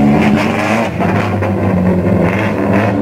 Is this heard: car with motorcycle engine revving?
yes